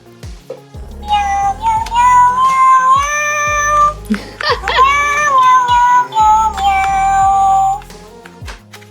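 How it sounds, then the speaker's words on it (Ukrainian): An electronic toy cat meows loudly and close, a string of several synthetic meows in different pitches with short pauses between them. "А, він різні звуки каже. Мяу, по різному мявкає."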